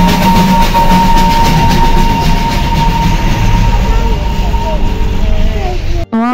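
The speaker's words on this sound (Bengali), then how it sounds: "এই দেখবেন ডান দিক দিয়ে এখান দিয়ে টয় ট্রেনটাও কিন্তু আসছে" The Darjeeling toy train passes close by in the hills, a loud continuous rumble and clatter of wheels and carriages that holds steady for several seconds before cutting off abruptly, with voices faint underneath.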